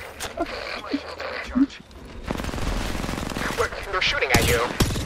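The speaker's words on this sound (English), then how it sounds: "They're shooting at you." Video game gunfire rattles in sustained automatic bursts, loud and dense through the second half, following scattered shots and voices earlier in the clip.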